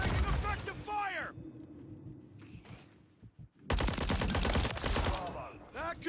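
Video game gunfire crackles in dense bursts, with a brief quieter gap in the middle before another heavy volley, close and loud, mixed with other game sounds.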